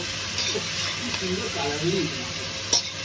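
Chicken pieces frying with onions in hot oil in a home kitchen, a steady close sizzle with occasional stirring scrapes and a brief louder clatter near the end.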